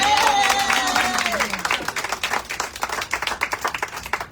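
An audience claps for Dr. Tineo at a Puerto Rican literary arts event, with dense, sustained applause that thins into scattered claps toward the end.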